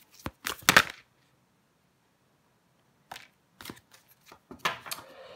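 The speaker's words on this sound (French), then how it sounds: "je prends encore une carte pour vous" Tarot cards drawn from a deck, two bursts of close, crisp card slides and flicks separated by a stretch of silence, the second burst a series of short slaps and rustles.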